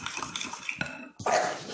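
A utensil stirs cheese sauce in a dish, producing a few scraping clinks and taps of metal against the container, close and fairly quiet, with a short pause before a louder scrape.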